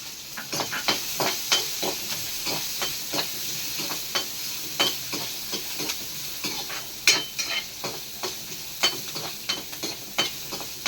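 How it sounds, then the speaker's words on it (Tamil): Cashew nuts fry and get stirred in a pan while cooking a soya kurma, with a continuous sizzling hiss broken by regular scraping stir strokes and occasional sharp clicks of a utensil against the pan, close and fairly loud. "முந்திரி பருப்பு வறுத்துக்கலாம்."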